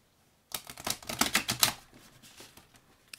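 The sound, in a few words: deck of oracle cards being shuffled poker-style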